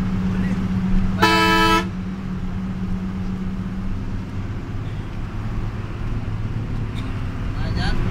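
A single short car horn honk sounds nearby over a low engine rumble and background traffic hum on a winding hill road in Rangamati.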